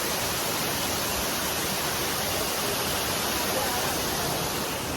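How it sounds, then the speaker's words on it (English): Waterfall at Abshaar restaurant in Kaghan, where diners sit in the falling water; a dense, unbroken roar fills the whole stretch evenly, steady and close with no distinct events. "We're still in the waterfall here."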